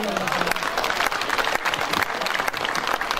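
Dense, steady crowd applause at a wine festival in Covasint, greeting a female singer as she comes on stage; loud clapping fills the whole moment without a break.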